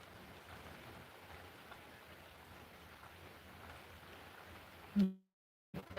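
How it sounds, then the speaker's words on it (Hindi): Steady rain falls in a continuous, even hiss with no talk, then cuts off abruptly near the end of the stretch, during a live Awadhi folk-song session at home. "बारिश आ गई।"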